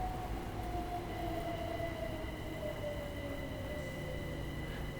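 A London commuter train in Train Sim World 2 rumbles steadily along with a low engine drone and faint high whining tones, continuous and close, with no voices.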